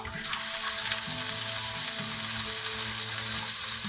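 Carrots and onion fry in a pan for a Chinese chicken curry with noodles, giving a loud, steady sizzle throughout with a low rumbling hum beneath, no voices.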